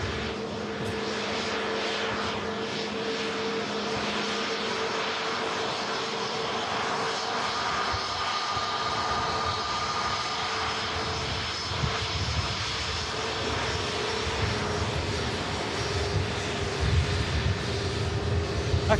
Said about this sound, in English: Aer Lingus sending in the Airbus A321 XLR today.